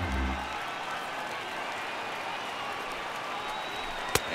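Stadium crowd of about 33,000 in the baseball video game MLB The Show 18, a steady broad wash of applause and crowd noise at moderate distance, with a sharp single crack near the end.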